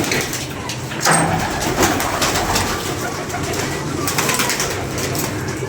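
Several pigeons coo in soft, repeated, rolling calls near a home loft, loud and close, over steady background noise.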